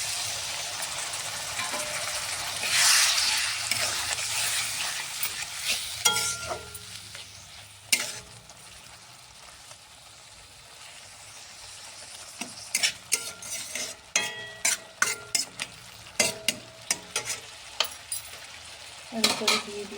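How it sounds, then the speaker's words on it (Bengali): Spices stirred and frying in a pan for a puti fish curry, steady sizzle with scraping spoon strokes that grow into a quick series of sharp clinks and scrapes toward the end, close and alone. "একটু ভেজে নিব মশলার উপরে"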